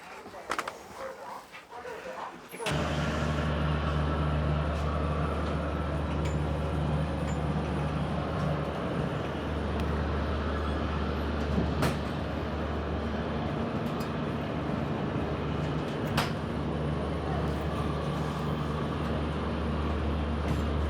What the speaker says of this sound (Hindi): तो हार्डली 1-2 मिनट डीले के साथ अपनी ट्रेन चल दी है।